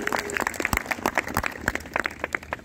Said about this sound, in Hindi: तो एक बार समापन के लिए एक बार जोरदार तालियां